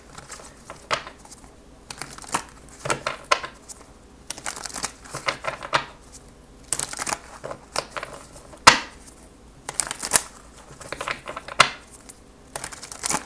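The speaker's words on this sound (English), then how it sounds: "That deck is a little bit big to shuffle the other way." A deck of tarot cards being shuffled close up in repeated quick riffling bursts with short pauses between, crisp papery rustles and slaps, no talking.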